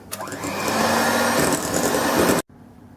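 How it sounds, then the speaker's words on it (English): Cupcake batter for Victoria sponge cupcakes being beaten with an electric mixer, a steady loud whirring drone lasting over two seconds before cutting off abruptly. "whisk that in too"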